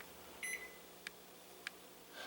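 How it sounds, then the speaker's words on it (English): A kitchen timer or microwave gives a few short, faint electronic beeps at irregular intervals in a quiet kitchen, with no talk. "I'm going to set the timer literally for 5 minutes"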